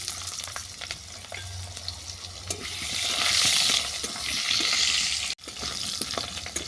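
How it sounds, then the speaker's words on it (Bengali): Potatoes hit hot oil already seasoned with bay leaves, dried red chilies and five-spice, giving a loud, continuous crackling sizzle that swells midway, with a brief clatter of utensils near the end. "এতে আমি আলুগুলো তুলে দিচ্ছি।"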